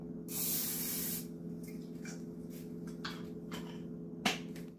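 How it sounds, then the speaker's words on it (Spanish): Cooking spray is sprayed into a frying pan in one long hissing burst near the start, followed by faint kitchen clicks and a sharp tap near the end over a low steady hum. "usa el spray de cocina en el sartén"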